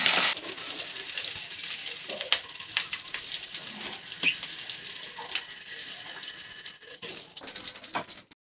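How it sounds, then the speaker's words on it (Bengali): Boiled eggs coated in turmeric and salt frying lightly in oil in a pan, with a rushing, spattering sizzle that rises and falls alongside scattered taps and stirs, then stops abruptly at the end, with no voices. "ডিমগুলোকে হালকা করে একটু ভেজে নিলাম"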